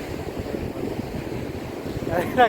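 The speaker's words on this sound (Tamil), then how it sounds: "கடல் ரொம்ப போராட்டமாக தான் இருக்குது என்ன பண்ணுறது அலை ரொம்ப ஜாஸ்தியாக இருக்குது காற்று ஃபீல் இருக்குதுனாங்க" Rough sea with strong wind at the shore during cast-net fishing, giving a continuous rumbling wash of waves and wind buffeting the microphone, with a louder gust or surge at the end.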